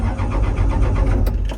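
A diesel excavator engine cranks and turns over, a dense low rumble with rhythmic pulsing that runs steadily throughout, close and loud, with brief higher-pitched whines near the end.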